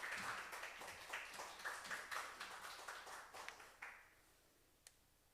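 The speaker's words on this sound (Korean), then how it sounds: "박수로 청하여 듣겠습니다" A church congregation applauds during a Sunday worship service, a fairly quiet, rhythmic round of clapping that gradually thins out and fades over about four seconds.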